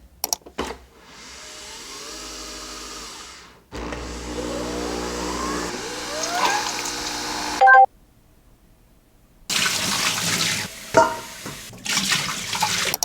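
Nespresso coffee machine running its descaling cycle: a pump drone with flowing water in several bursts, broken by gaps of silence, then a louder, rougher gush toward the end.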